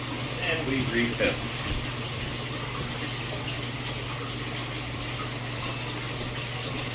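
Tap water pours steadily into an aquarium tank, a continuous close rushing splash over a constant low hum, with a brief voice near the start.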